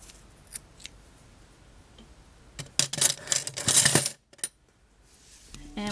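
Scissors cut through knitting yarn for an ear warmer, giving a few close, sharp snips with a brief burst of crisp clicking in the middle, alone without talk.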